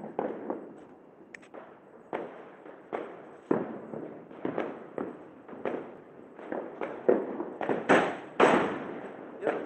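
Diwali firecrackers go off one after another in irregular bursts, sharp crackling pops at moderate distance with short gaps between them.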